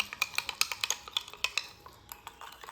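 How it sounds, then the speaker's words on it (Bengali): A spoon stirs sandalwood powder into turmeric juice in a small container, making quiet, rapid rhythmic clinks that thin out toward the end. "1 চামচ দিয়ে দেওয়ার পর হলুদের রসের সঙ্গে খুব ভালোভাবে মিশিয়ে নেব।"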